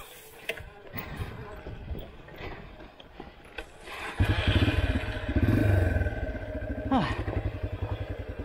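Carbureted motorcycle on a steep Twin Peaks trail, idling roughly and struggling to stay running at an angle, then revving into a loud sputtering, uneven rumble close by, with people talking over it.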